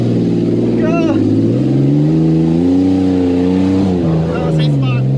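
A vehicle on a steep hill-climb course revs hard in first gear and bogs down, its engine droning loud and close with laboring, wavering pitch. Excited voices shout over it.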